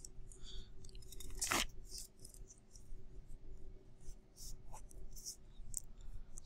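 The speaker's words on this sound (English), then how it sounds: "I'm gonna mark these on a separate piece of paper here." A pen writes marks on a separate sheet of paper, with close, scratchy strokes in short bursts and one louder scrape early on, heard alone without speech.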